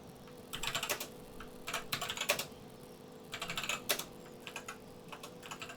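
Fingers type on a computer keyboard while entering firewall port settings, producing close, rapid keystrokes in three bursts with short pauses, over a faint steady hum.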